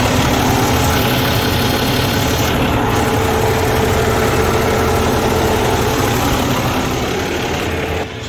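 A Freightliner Cascadia truck engine runs at high idle after fresh oil, a steady, dense, loud diesel drone with constant rumble and hiss and no pauses.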